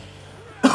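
A single sharp cough bursts out close to the microphone after a brief near-silent pause.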